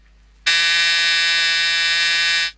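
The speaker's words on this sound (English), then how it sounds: "the buzzer tells the driver to fasten his seatbelt" Seat belt warning buzzer in a Chrysler-built vehicle sounds as one steady, loud electronic tone lasting about two seconds, starting and stopping abruptly, with no other sound around it.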